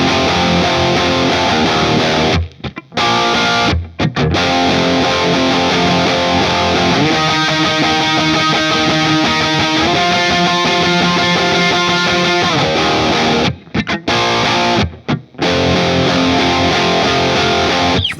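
Heavy distorted electric guitar chords drive a loud, dense rock passage, the second chorus of a song, with a couple of brief abrupt stops.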